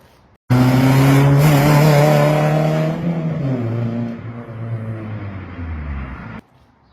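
An old worn-out car's engine revs hard and loud for a couple of seconds with a high whine, then settles into a lower rough drone that runs on until it cuts off abruptly.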